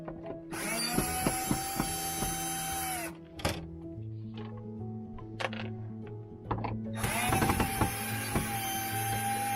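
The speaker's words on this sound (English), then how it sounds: "Our next step is removing this front. There's 4 screws that you have to remove." A power drill or driver backs screws out of the front panel of a furnace heater in a Winnebago Micro Minnie 1700BH, two loud whirring bursts of a few seconds each, close, with clicks and handling noise between them.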